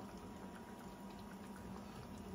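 Milkfish paksiw with eggplant simmers in a pot, giving a steady, faint bubbling hiss that stays even and continuous with no voices.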